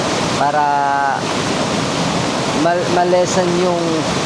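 Strong flash-flood water rushes loudly through a river, a constant roaring wash that fills the scene while someone talks over it.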